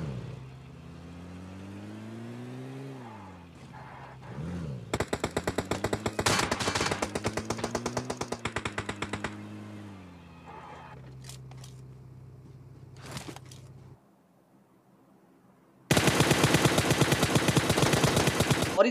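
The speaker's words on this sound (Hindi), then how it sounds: "जैसे ही यहां से निकलने लगता हूं वैसे ही फायरिंग होती है" Gunfire in a PUBG blackhole-mode match crackles in long rapid bursts, loud and close, breaking off then resuming, over a steady engine-like drone that rises and falls.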